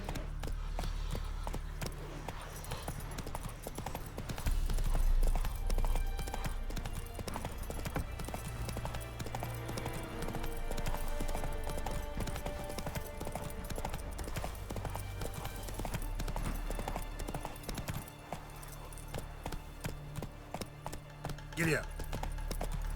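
Horse hooves in The Witcher 3: Wild Hunt, a steady rhythmic clip-clop of a ridden horse running under game music and character dialogue throughout.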